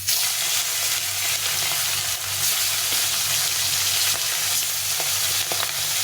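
Fish full of roe frying in hot oil, a steady, loud broadband sizzle that holds evenly throughout with a few small pops and crackles, close up and with no voices.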